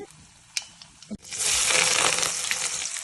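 Chana dal, urad dal, cumin and mustard seeds dropped into hot oil: a couple of small clinks, then a sudden loud, steady crackling sizzle close by.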